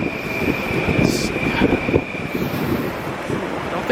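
An M9 commuter train passes through snowy suburban Long Island, a steady rumbling rush with a high tonal whine and clattering, heard outdoors through wind buffeting the microphone.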